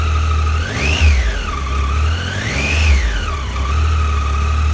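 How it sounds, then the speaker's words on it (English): Triumph Tiger 800 XRt motorcycle engine, beginning to smoke during chain cleaning, idles steadily close by and is revved up and back down twice. "She's starting to smoke a bit now, so give her a bit of a rev."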